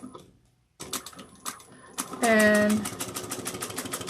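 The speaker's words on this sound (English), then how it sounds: "I'm going to back stitch into the seam allowance." A sewing machine back stitches a seam on a soft, floppy lined slouch bag, starting in short bursts and then running in a quick, rapid stitching run, with a voice speaking briefly near the start.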